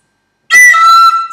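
A high, shrill squeak bursts from a whistle, sustained for under a second before cutting off, loud and close.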